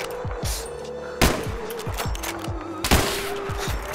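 Rapid gunfire in a multiplayer shooter video game, several sharp loud shots cracking in quick succession with a couple of stronger bangs, each ringing briefly, with no speech.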